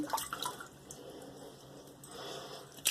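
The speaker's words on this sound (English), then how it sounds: "So let me put some more water on here." Water trickles and splashes onto a shaving brush and shaving soap, a soft, close wet pouring with a couple of brief louder splashes at the start and end, quiet overall with no talking.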